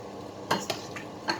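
White peas tipped into a soup pot while making a vegetable soup, giving a few separate clinks and clatters against the pot, close and fairly soft, with no talking.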